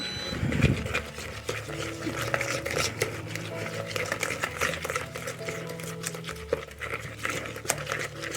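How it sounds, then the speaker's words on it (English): Eggs with black pepper are whisked in a bowl for carbonara, a quick steady run of light clicking and tapping strokes, close and fairly soft. "Then we're going to whisk it up."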